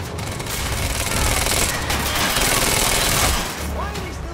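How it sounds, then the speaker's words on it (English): Rapid automatic gunfire in the video game Quantum Break, a loud dense burst of shots lasting several seconds with a brief pause, close and harsh. "Why are they still shooting?"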